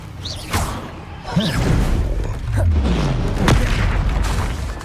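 Rapid spell combat in Hogwarts Legacy fires off Confringo blasts among other spells, a quick sequence of loud booms, whooshes and thuds layered over dense game effects.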